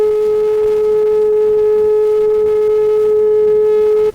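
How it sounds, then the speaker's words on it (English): A tuning fork driven by an electromagnet vibrates at 428 cycles per second, producing a loud, perfectly steady pure tone with faint overtones that holds unbroken for about four seconds before cutting off abruptly. "That's the sound of the tuning fork vibrating at 428 cycles per second."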